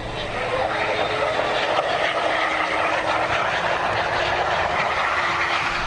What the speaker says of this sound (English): This is the moment of contact on the runway, shot from inside the cabin.